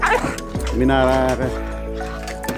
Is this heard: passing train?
no